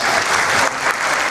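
Audience at a gospel a cappella concert clapping steadily, a loud, dense burst of applause from a full hall close by, with a slight dip midway before carrying on.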